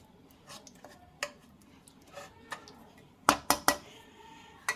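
Utensils clinking against a metal strainer and bowl while mashed raw mango pulp is pushed through, scattered soft taps building to a few sharp, close clanks.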